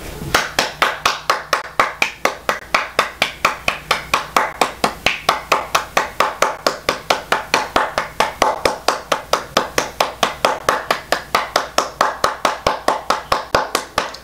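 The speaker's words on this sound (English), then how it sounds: "That was a well-deserved round of applause." One person claps alone, indoors and close by, in a long, even, steady rhythm of several dozen sharp claps, with no talking.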